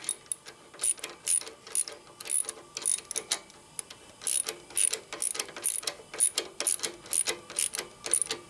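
Close ratchet clicking in steady repeated strokes as bolts are tightened on a 1972 Harley-Davidson XLCH Sportster ironhead, crisp metallic ticks running throughout with no voices.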